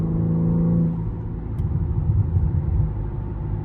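A BMW M3 G80's engine idles in a deep, steady rumble, first with a brief droning tone, then settling into a lumpy, throbbing low idle that sounds close by.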